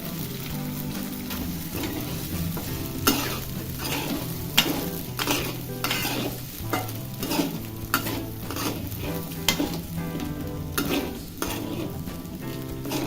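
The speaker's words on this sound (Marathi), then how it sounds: "थोडं तेलामध्ये परतून घ्यायचा म्हणजे शिजला जाते" Diced potato and sabudana stir-fried in oil in a pan for a fasting misal: a steady close sizzle with repeated scraping and stirring strokes of a spoon running throughout, with no talk.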